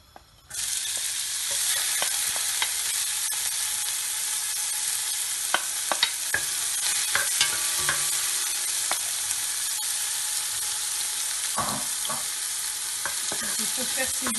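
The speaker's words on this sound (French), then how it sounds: "il faut faire saisir les oignons un petit peu dans l'huile." Onions sizzle in hot oil in a cooking pot while a utensil stirs them, making a steady close frying hiss with scattered scraping clicks and stirring knocks throughout, no voices, for a Moroccan-style meat tajine with prunes.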